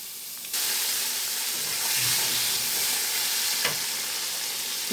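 Brinjal pieces tossed in hot oil left over from frying fish start a sudden loud, steady sizzle after a quiet moment, with a brief scrape of turning partway through.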